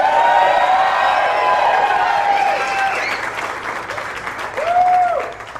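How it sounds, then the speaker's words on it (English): Audience applause for a guest on a morning radio show, a dense clapping wash mixed with whoops and a few raised voices, fading toward the end. "Everybody give him a big round of applause"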